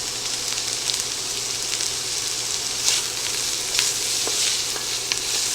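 Italian sausage sizzles and fries steadily in a pot, a dense continuous hiss with scattered pops and crackles, close and loud throughout.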